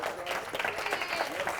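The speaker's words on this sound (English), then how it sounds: "Let's go ahead and clap for ourselves." A room full of seminar attendees claps for themselves, a brief burst of steady, fairly close group applause with some voices mixed in.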